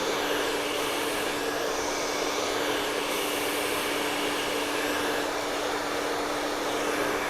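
A hair dryer blowing steadily on hair styled with a round brush, a constant even whoosh with a faint high whine, close and alone for the whole stretch.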